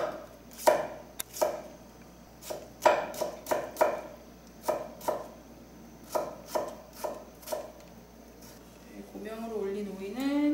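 A kitchen knife julienning cucumber into thin strips on a cutting board for a garnish, sharp irregular chopping taps in quick bursts, with a voice speaking near the end.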